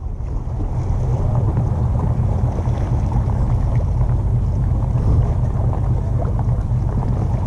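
A fairly large fishing boat's engine drones while docking, a heavy, steady low-pitched rumble with wind noise across the microphone, continuous and close, no voices.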